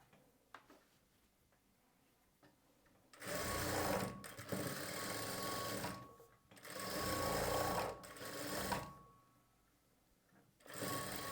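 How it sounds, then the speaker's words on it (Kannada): Sewing machine stitching the side seam of a blouse, running in three steady loud bursts of a few seconds each with short pauses between, faint background before the first run. "ಸೊ ಡೈರೆಕ್ಟಾಗಿ ಸ್ಟಿಚ್ ಮಾಡ್ತೀನಿ"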